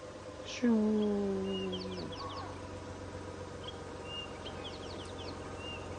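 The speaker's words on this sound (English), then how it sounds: "Now I can hear some nice bird calls around that dead tree." Birds calling around a dead tree on a morning safari drive, with a clear descending call near the start followed by faint, scattered chirps and whistles over a quiet outdoor background.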